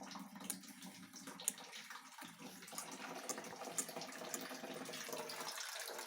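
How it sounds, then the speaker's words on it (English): Water from a water heater's drain valve runs through a hose into a 5-gallon bucket, carrying sediment; a steady, fairly quiet rushing trickle with faint splashy flecks, no voices. "I'm just going to open that up and let that drain into our 5-gallon bucket"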